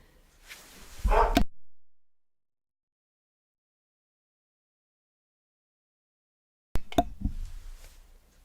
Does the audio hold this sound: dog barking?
yes